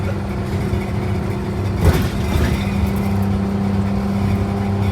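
An MCI MC12 bus engine pulls steadily with a low, constant drone and turbo boost building. One brief louder whoosh comes about two seconds in, and no one speaks.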